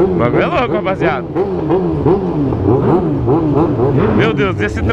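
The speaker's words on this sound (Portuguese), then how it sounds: "Tô no meio de duas motos barulhentas" Loud motorcycles, among them an XJ6, CB1000 and Hornet, rev hard in close traffic with a truck nearby, engine pitch sweeping up and down repeatedly right beside the rider, with a voice talking over the noise.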